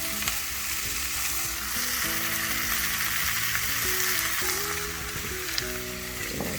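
Onions with green chilies frying in a pan, a loud continuous sizzle with stirring noises, heard close up with no one talking.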